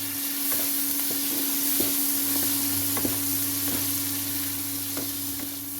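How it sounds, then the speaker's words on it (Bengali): Shrimp fry in hot oil in a pan, a steady close sizzle with regular scraping stirs about every half second to second, turned gently until reddish-brown; no voices. "চিংড়িটাকে ভালো করে লাল লাল করে ভেজে নিতে হবে"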